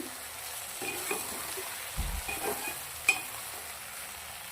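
Okra and potato dry curry being stirred in a pan, with soft scraping strokes and a faint sizzle at a low level, plus a louder clack near the end and no talking.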